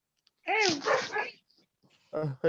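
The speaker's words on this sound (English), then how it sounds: "somebody's dog is barking" A dog barks during an online rudiment music class, giving a few short, strong barks and yelps in bursts separated by quiet gaps, mixed with speech.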